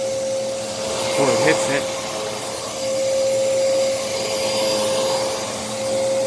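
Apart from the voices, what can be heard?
Moosoo U1400-A vacuum cleaner running, 12 amp motor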